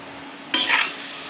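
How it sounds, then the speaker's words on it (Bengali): A spoon scrapes and stirs a pangas fish mash with yardlong beans and potato in a pan, one sharp stir sweeping through over a steady low hiss, close and clear with no talking. "আবার নাড়া দিয়ে দিলাম।"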